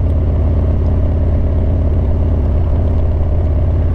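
A car engine idles steadily in slow city traffic in Cincinnati, a constant low rumble up close with a faint clatter and no talking.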